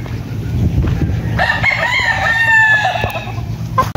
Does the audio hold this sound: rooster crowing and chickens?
yes